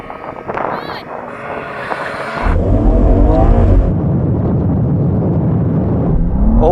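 A drag race between a BMW M2, Audi RS3, AMG A45 S and Porsche Boxster GTS, with voices counting down before the cars launch together in a loud, sustained roar of accelerating engines.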